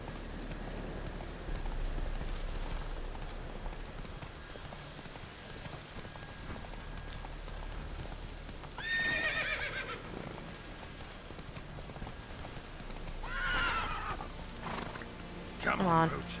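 Witcher's horse Roach in a video game, heard as a few neighs and whinnies over a soft background bed, moderately loud and spaced apart.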